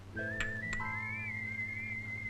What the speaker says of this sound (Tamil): மாப்பிள்ள நீங்க விசில் அடிச்சுதான் ஆகணும்